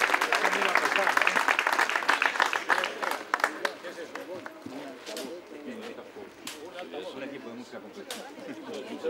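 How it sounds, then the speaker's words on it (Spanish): Audience at a bowling tournament awards ceremony applauding a youth-category finalist, a crowd's clapping fading from lively to scattered claps while chatter continues underneath. "Fuerte el aplauso al finalista de la categoría infantil"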